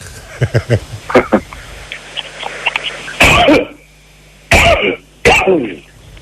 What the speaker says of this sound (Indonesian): Udah batuknya udah. Sudah selesai ya.